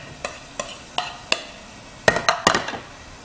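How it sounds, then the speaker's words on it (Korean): Beef and shiitake mushrooms are stir-fried in a pan, heard as a string of sharp spatula scrapes and taps against the pan, first evenly spaced and then in a quicker cluster, over a faint sizzle. "한 1분 남짓 볶아주세요"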